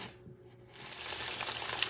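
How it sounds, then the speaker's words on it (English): Oil crackles and sizzles as skinless chicken breast hits the hot pan, the frying noise swelling to a steady, close hiss after a quieter start. "you start frying this baby"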